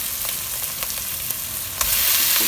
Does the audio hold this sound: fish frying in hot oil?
yes